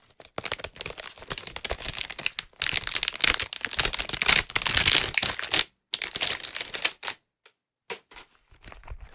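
A bright pink generic fidget spot cube handled up close, giving bursts of rapid clicky, crinkly tapping that come in dense clusters broken by short pauses, then thinning into a few isolated clicks near the end.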